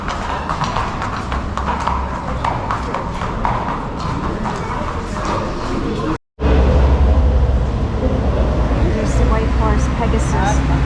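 Horses' hooves clip-clop on a Vienna street near the Spanish Riding School in a brisk, repeating rhythm amid street noise and people talking, broken by a brief silence before traffic rumble continues.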